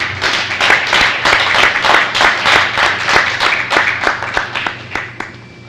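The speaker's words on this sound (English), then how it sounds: "Let's give a collective round of applause for our current juniors and their high honors recognition." Applause at a high school honors ceremony recognizing juniors: a modest crowd claps in a fairly regular, rhythmic pattern, steady and moderately loud, tapering off over a few seconds.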